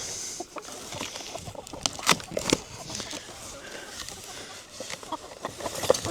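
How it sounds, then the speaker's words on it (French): A rooster and hens cluck and shuffle inside a cardboard box while a chicken coop is being set up. Soft, irregular clucks and scratchy rustling carry on throughout at moderate loudness. "Un beau coq."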